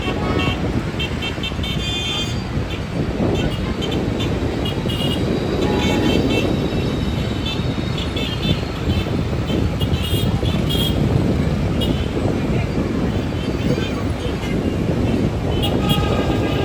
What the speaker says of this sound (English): it is busy, there's lots of traffic, it's a main road